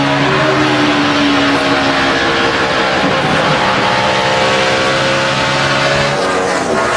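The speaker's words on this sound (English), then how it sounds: "You can hear just how hard they're turning those engines here at Pocono." NASCAR race car engines revving hard at Pocono during the 2011 Good Sam RV Insurance 500, a loud continuous high-pitched roar with rising and falling whine tones as cars race past, no talk.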